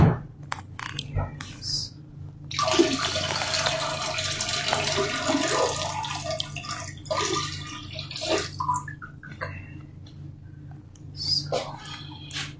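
Water pours and splashes in a bathroom beside a leaking toilet, a running gush for several seconds amid scattered knocks and drips, with a person speaking quietly at times.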